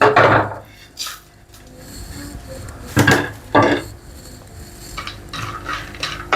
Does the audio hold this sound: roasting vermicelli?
yes